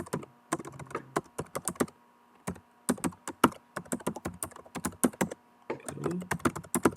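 Someone types a password on a computer keyboard in quick bursts of sharp, close clicks separated by short pauses, with no talking.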